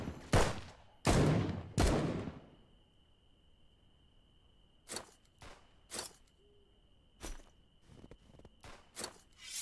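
Enemy pistol shots ring out in a survival crafting video game: a quick burst of three sharp, loud cracks, then after a pause several more scattered, fainter shots and thumps over a quiet ambient tone.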